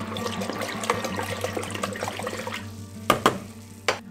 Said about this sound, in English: I have 3 liters of water and I'm gonna put 75 milliliters of Rootguard